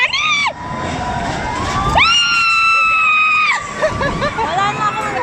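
Excited people shrieking and shouting on an amusement ride on a trip to Tagaytay, loud sustained high screams rising and falling in several long bursts with crowd babble between them.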